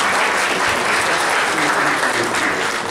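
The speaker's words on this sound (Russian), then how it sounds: "Я думаю, что аплодисменты – это такое показание поддержки, да, вашему опыту и благодарности." An audience applauds after a presentation at a meeting, a dense, sustained wash of many hands clapping at once, loud and continuous for the full few seconds with no talk over it.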